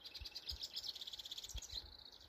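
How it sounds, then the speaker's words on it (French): Small birds chirp and trill in a natural park setting, quick high tweets repeating in rapid runs, faint and somewhat distant, with no talking. "Le chant des oiseaux."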